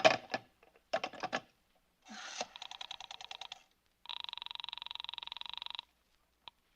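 A telephone being dialed in an old-time radio drama: clicking rotary-dial bursts followed by a buzzing, pulsed line tone, then a stretch of steady rapid ringing tone, all fairly quiet with no voices.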